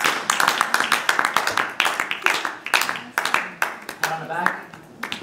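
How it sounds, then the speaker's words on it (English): A small group of medical students clap for one another, sharp uneven claps close by, thinning toward the end while voices talk over them. "Give each other a round of applause."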